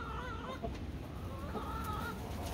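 Chickens at a home coop clucking near the door before being let out, soft repeated calls over a steady, noisy background with no talk.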